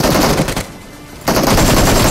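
Automatic weapon fire in PUBG Mobile, continuous loud rapid bursts filling the clip with a brief lull in the middle before the shooting resumes, close and dominant.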